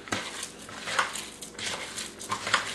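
Spam kelaguen being mixed with lemon powder and hot pepper, several soft scraping strokes and light clinks of a utensil against a bowl, fairly close and quiet.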